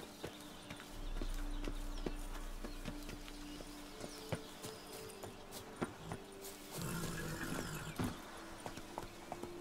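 Roach the horse trotting in The Witcher 3, a steady run of hoof clip-clops with sharp accents, moderately loud over a low ambient rumble and a brief tonal hum.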